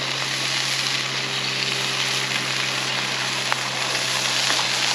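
An egg fries in an oiled pan, giving a steady, close hiss of sizzling with faint crackles and a low hum underneath.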